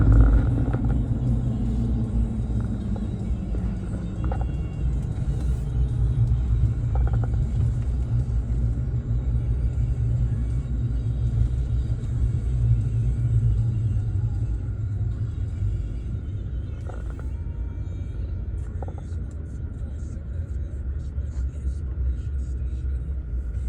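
Motorcycle fitted with a Vykon part running on a dyno, a loud sustained low rumble that pitches down slightly early then holds steady, with a voice talking over it.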